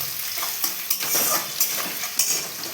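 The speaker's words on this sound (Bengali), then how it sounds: "এবার পেঁয়াজ কুচি ভাজতে হবে কিন্তু ভালো করে" Chopped onions fry in a pan for breakfast pasta, a loud close sizzle broken by repeated scrapes and clinks of a stirring utensil.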